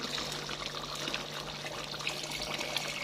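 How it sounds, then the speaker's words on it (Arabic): Steady low rushing and bubbling of water heating in a pot for Moroccan harira, a continuous simmering hiss with no voices. "لهنا الماء سخون يغلي"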